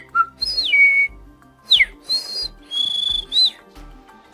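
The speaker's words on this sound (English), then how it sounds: "it was an oriental magpie robin, a bird I'd never seen in the wild before" An oriental magpie robin sings in a national park before dawn, a loud, close series of clear whistled phrases with rising and falling sweeps, separated by short pauses.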